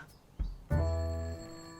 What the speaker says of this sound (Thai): เสียงอะไรเหมือนโทรศัพท์